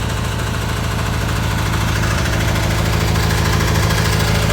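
Tractor engine idling close by, a loud, steady low chugging with a rapid mechanical knock that stays even throughout.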